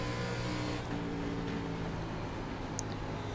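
A race car engine in the iRacing sim, running an ARCA series race at Atlanta Motor Speedway, holds a steady, continuous drone with a faint, even rise in pitch throughout.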